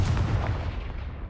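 A Confringo fire spell in the Hogwarts Legacy video game goes off as a booming, rumbling blast, loud and close, with its deep roar fading over about a second.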